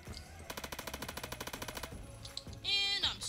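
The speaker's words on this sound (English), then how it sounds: "I'm actually shooting him through the wall." Rapid automatic C7A1 rifle fire in a first-person shooter game, a tight burst of about twenty evenly spaced shots close up, then game effects and chimes after the firing stops.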